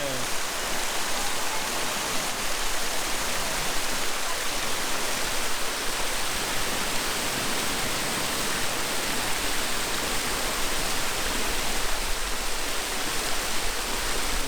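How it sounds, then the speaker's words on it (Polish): Steady, dense rush of water falling down cascades at free thermal springs in Italy, a constant loud roar with no breaks throughout. "Spady, kaskady wodne"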